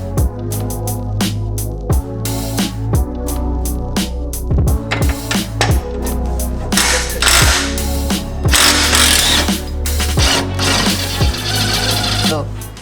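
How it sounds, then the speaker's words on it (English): A 22mm ratchet clicks steadily while a bolt is worked loose during a traction bar install on a 2016 Ford Focus ST, a rapid pawl rattle in repeated strokes, loud and close, with a few sharper metallic knocks. "you do have to use the 22mm ratchet to hold this so you can take it out"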